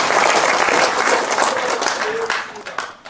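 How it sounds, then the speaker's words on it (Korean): Audience members at a panel discussion clap for the people who asked questions, a dense, fairly loud burst of applause that tapers off toward the end, with a voice briefly audible beneath it. "질문해 주신 분들에 대해서 우리 박수를 좀 보내주세요."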